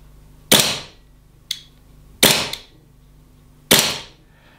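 Three sharp, loud cracks of an Army Armament R28 airsoft rifle firing, spaced a second or more apart, with a quieter trigger click between the first two.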